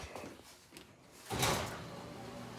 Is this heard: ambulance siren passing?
no